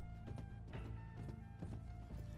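Horse hooves clip-clop at a steady walking rhythm in Red Dead Redemption 2, close and moderately loud, with a faint background tone running underneath and no talking.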